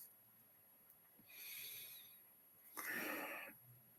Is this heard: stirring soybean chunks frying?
no